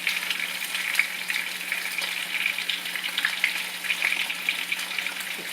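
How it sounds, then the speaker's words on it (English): Oxtail browning in a hot pot for Jamaican-style oxtails, a steady close sizzle and crackle of frying meat running evenly throughout with no talking. "this is how I'm browning my oxtail"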